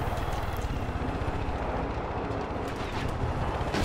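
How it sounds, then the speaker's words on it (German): A helicopter in the video game Far Cry 5 thrums with a steady, loud, broadband rotor roar and fast low pulsing chop that fills the whole stretch without letup. "Scheiße, Hubschrauber."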